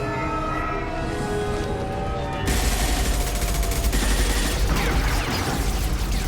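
Dense, rapid gunfire erupts from a Mass Effect 2 firefight on Insanity difficulty, breaking in after a steady tonal musical passage and then rattling on loudly and continuously as overlapping bursts.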